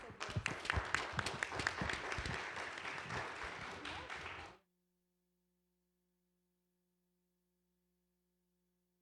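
A church congregation bursts into applause, a dense, lively burst of many hands clapping for about four and a half seconds before cutting off abruptly into silence.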